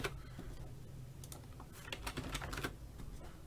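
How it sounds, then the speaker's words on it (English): Rapid computer mouse and key clicks while plotting route points on a map, a close, quiet run of crisp plastic taps in irregular bursts, alone without talk. "I'm clicking points on the map that I want to traverse"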